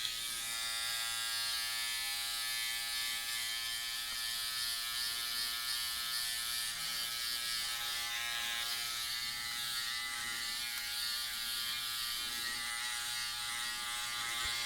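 A Philips Norelco OneBlade fitted with the Bodyguard trimmer attachment buzzes steadily while trimming beard growth, a close, continuous electric hum with faint shifting texture as it moves across the hair, no talking.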